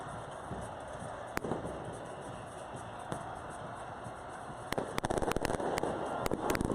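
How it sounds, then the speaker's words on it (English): Fireworks go off during street protests in Chile, sharp scattered cracks and pops over a dense crowd din, growing into a rapid cluster of bangs toward the end. "Hear more fireworks."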